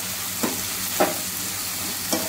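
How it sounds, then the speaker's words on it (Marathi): Egg biryani masala with garlic and ginger frying in a pan, a steady close sizzle with three soft scraping stirs of a spoon spaced through it, no voices. "हे चांगलं असं नरम होईपर्यंत परतत राहायचं आहे आपल्याला मिश्रण"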